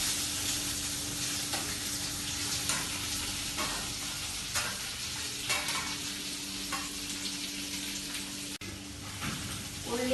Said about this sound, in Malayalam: അതിലേക്ക് ഒരു തക്കാളി മുറിച്ചതും ഒരു ഉള്ളി മുറിച്ചതും ഒരു ക്യാപ്സിക്കം മുറിച്ചതും ഇട്ട് വഴറ്റുക